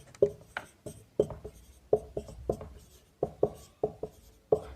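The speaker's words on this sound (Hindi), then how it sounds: "लिख दे रहे हैं" Pen strokes on paper while an answer is written out, a series of crisp scratchy taps and short scribbles in an uneven rhythm, close and fairly loud with no voice over them.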